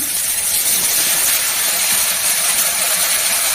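Ginger, cumin, garlic, onion and tomato paste sizzling in a pan for a jackfruit fish curry: a loud, steady, hissing sizzle that runs unbroken throughout, with no voices.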